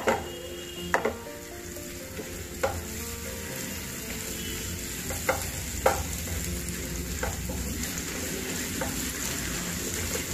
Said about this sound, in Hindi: अदरक मिर्ची की पेस्ट डालेंगे और अच्छे से मिला लेंगे और इन सबको भून लेंगे।